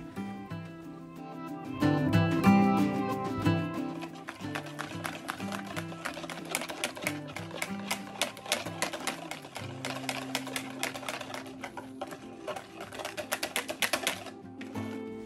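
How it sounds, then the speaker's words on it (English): Eggs and granulated sugar are whisked by hand in a bowl for a Goan batk batter, making a rapid, close, continuous clatter of ticks that carries on for most of the stretch with slight shifts in pace. "After whisking it really well"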